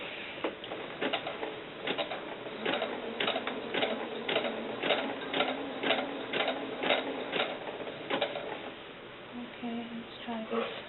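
A sewing machine stitches fabric for a doll dress over fishing line, giving a steady run of rapid, evenly spaced mechanical clatters close by that slow and fade near the end.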